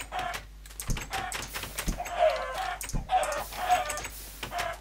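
Minecraft chickens cluck and squawk in short bursts over steady computer keyboard typing and clicking, with no one speaking.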